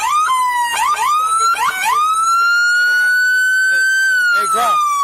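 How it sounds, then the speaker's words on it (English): A police car siren wails loud and close, sweeping and then holding a steady high tone, while someone shouts over it during a robbery chase. "Hey, Graf, kill the sirens for me."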